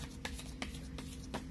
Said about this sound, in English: I'll shuffle the cards, I'll lay them down